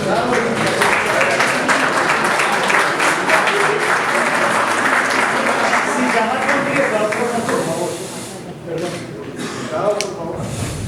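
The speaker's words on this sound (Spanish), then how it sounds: "Recibámoslo con un fuerte aplauso." A large audience at the signing of a tax reform breaks into loud, sustained applause welcoming Gustavo Petro, the dense clapping holding steady before thinning out near the end as voices take over.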